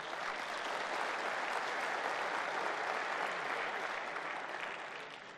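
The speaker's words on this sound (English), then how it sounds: "they all deserve a huge round of applause" A large conference audience at a crowdfunding summit breaks into dense, sustained applause that holds steady for several seconds before starting to fade, with no voices over it.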